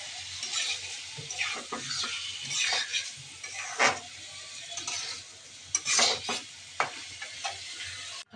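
Fish goes into spice paste that was fried down with onion and green chilli, sizzling steadily in the pan while a utensil scrapes and stirs in irregular bursts, with a few sharper clacks against the pot.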